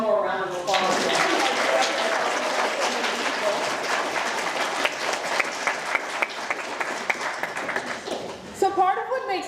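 An audience at an event claps and cheers in a sustained round of applause lasting several seconds, with a voice speaking briefly at the start and end.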